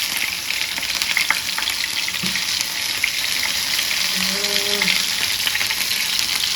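Tomato pieces crackle and sizzle in a hot pan, a steady dense frying hiss with scattered pops, close and fairly loud, with a brief faint tone near the end.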